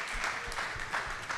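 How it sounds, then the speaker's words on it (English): An audience claps together at a storytelling event, a brief, moderately distant patter of applause with no voices over it. "Give him a round of applause."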